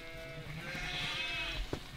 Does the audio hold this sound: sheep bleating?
yes